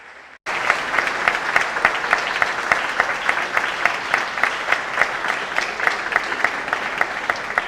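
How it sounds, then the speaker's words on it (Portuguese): A church congregation applauds after a sermon, loud steady clapping from many hands that begins abruptly after a brief quiet moment and continues evenly to the end. "Se você foi edificado, pode aplaudir ao Senhor Jesus Cristo."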